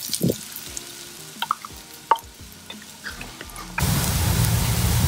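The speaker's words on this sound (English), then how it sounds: "So we are going to stir fry the grated coconut till it turns light golden in color" Grated coconut stir-frying in hot coconut oil in a clay pan: a few scattered drips and light clicks at first, then a steady, dense sizzle that swells and holds close and fairly loud to the end.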